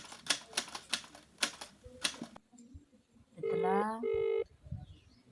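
Several sharp tapping clicks come first. After a short pause, a phone rings twice in two brief, steady electronic tone bursts.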